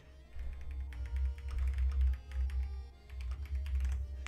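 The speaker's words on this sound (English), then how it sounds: "Ignore me typing." Rapid typing on a computer keyboard during a Pokemon Violet game stream, a steady close patter of key clicks over a low background hum, with no voices.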